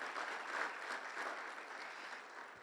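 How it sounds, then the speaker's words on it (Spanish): Applause greets a speaker at a labor union forum, a steady, even patter of many hands clapping, fairly faint and distant, with no voices over it. "Un aplauso, por favor, para Amado."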